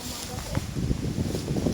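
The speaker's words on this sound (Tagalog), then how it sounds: "Biglang humangin." Wind gusts sweep across an outdoor spot on a hot day, a steady broadband rush with buffeting against the microphone that swells and holds for the whole moment.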